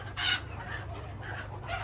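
Country hens cluck softly in a steady, busy murmur on a poultry farm, with a low constant hum underneath and no talking.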